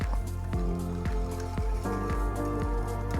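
Soy milk is being stirred into wet vegan chocolate chip cookie ingredients, giving rhythmic wet squelching and dripping sounds from the bowl, repeated about every half second and heard up close.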